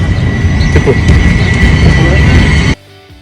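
A loud, steady mechanical rumble and hum of the Angels Flight funicular railway car in Los Angeles starting and running, ending abruptly into near silence.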